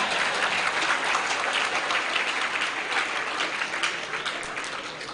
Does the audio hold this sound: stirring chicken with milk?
no